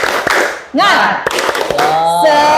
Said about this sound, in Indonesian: Ayo kita tepuk semangat.